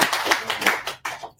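Brief round of clapping from an audience at a student hacking event welcoming a quantum computing speaker, several hands clapping briskly and close, then tapering off to silence within about a second and a half.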